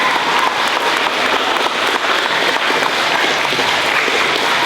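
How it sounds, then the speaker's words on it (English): Sustained, dense applause from a school audience at a fifth grade recognition day, honoring teachers. It holds steady and loud for several seconds with no break and no talking. "Can we have a round of applause for those teachers that helped us on our team?"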